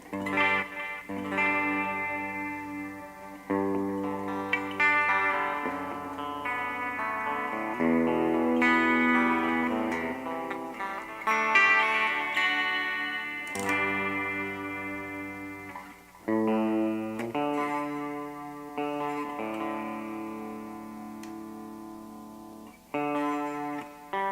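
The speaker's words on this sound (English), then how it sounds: "I'm just in clean. It's just a little bit of chorus and some reverb." Clean electric guitar played through chorus and reverb effects, chords and picked notes ringing out with a shimmering, wavering sustain, alone and fairly loud.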